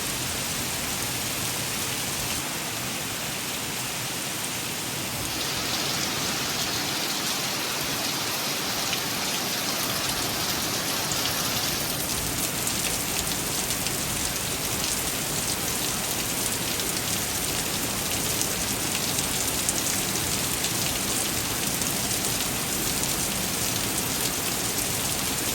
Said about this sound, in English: Just a torrential downpour